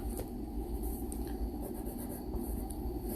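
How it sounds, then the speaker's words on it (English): A pen or marker writes a name across the top of a page during a live lesson for young children: faint, light scratches under a steady background hum. "So I'm going to write my name up top"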